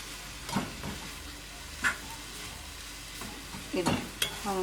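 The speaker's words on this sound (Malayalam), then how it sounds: "ഞാനത് മിക്സ് ചെയ്തു നന്നായിട്ട്." Spiced chicken keema fries and is stirred in a pan while Kerala-style sandwich filling is made, giving a steady soft sizzle broken by several distinct scraping strokes of the spoon.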